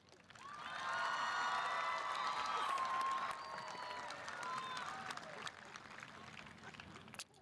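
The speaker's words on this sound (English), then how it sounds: "Please vote with your passionate applause now." A high school commencement crowd in the stands breaks into loud applause mixed with cheers and whoops, building quickly, holding for a few seconds, then fading toward a quieter finish.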